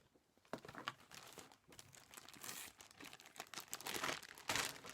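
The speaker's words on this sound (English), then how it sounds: "I'm sorry for the crinkling." Crisp crinkling and rustling of plastic packaging from cross-stitch supplies being handled nearby, in irregular bursts over a few seconds with no talking.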